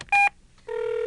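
In the You Don't Know Jack trivia game, a telephone dials out: a short, loud DTMF keypad tone, a brief pause, then a sustained steady tone as the call connects.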